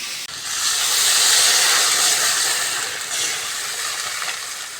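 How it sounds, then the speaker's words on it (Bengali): Water poured into fried spices in a hot pan for a mustard fish curry bursts into a loud, steady steam hiss that swells and then settles, close and unbroken. "মশলাগুলো ভালো করে ভেজে নিয়েছি, জল দিয়ে দেবো"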